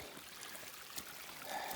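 Runoff water flows down a trail that doubles as a creek on a Great Divide Trail backpacking section, a soft, steady trickle and rush heard faintly and continuously with no voices over it.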